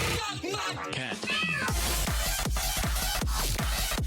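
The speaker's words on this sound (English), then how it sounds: "And lots of meowing." Cat meows ring out inside the music of an osu!mania map during a 4K World Cup semifinal match, rising and falling over the first second and a half before a pounding, steady electronic beat takes over.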